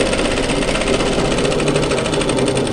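A domestic sewing machine runs steadily, stitching down a seam on a tee shirt or dress. It gives a continuous, fast mechanical whir with a rapid needle rhythm, close and fairly loud, with no pauses or talk.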